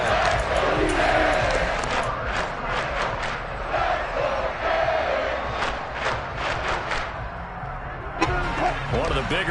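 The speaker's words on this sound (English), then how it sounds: "The crowd getting into it as we come up on a big third down" A football stadium crowd roars and cheers ahead of a big third down, a broad swelling din with shouts rising above it, while a commentator talks over the noise throughout.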